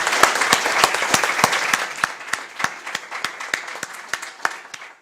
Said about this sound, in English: Please join me in applauding the Minister for his efforts.